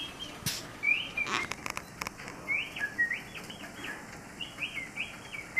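Bright, warbling whistled chirps in quick repeated rising and falling phrases from a mechanical singing bird automaton using slide whistles, with a few clicks and taps of machinery.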